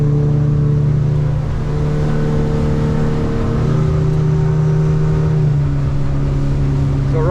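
Outboard-powered Hewescraft 210 Searunner boat cruising on the water while trimming up, the engine giving a loud, close, continuous droning hum whose pitch shifts slightly as it runs.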